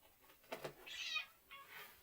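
A house cat meows several times near the microphone: two short faint calls, then a longer rising meow and a softer final one, in a quiet room with no talking.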